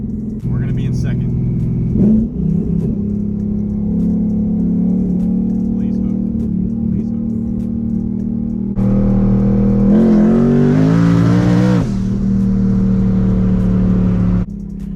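A 1000hp drag car pulls hard in second gear on the street, its engine a loud, steady close roar that swells into a harsher, rising rev for a couple of seconds before easing back, with talk over it.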